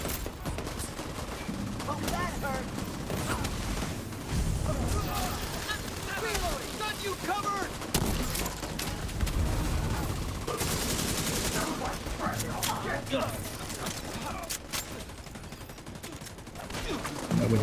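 Dense game gunfire from an online global event, steady rapid bursts and occasional heavier booms filling the whole stretch, with voices talking over the shooting.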